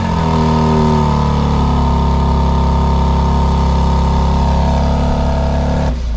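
A 2023 BMW X3 M Competition on remote start, its engine settling into a loud, steady idle with a deep even drone and faint whine, holding constant before an abrupt drop near the end.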